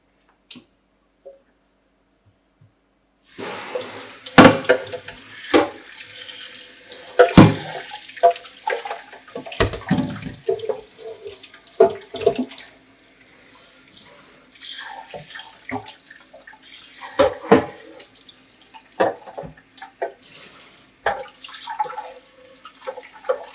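Tap water runs and splashes while slow juicer parts are rinsed in a sink, starting after a short quiet lead-in and continuing with uneven gushes and clattering of plastic pieces.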